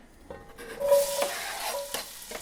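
Diced onion sizzling in oil inside a white-enameled Le Creuset Dutch oven, a steady close hiss punctuated by a few stirring scrapes, with no talking.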